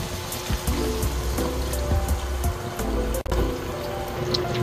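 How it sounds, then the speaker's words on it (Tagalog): Water poured into a pan while cooking creamy mushroom chicken, a steady close splashing and trickling stream that runs unbroken the whole time with no talk over it. "Ngayon, lagyan lang natin ng"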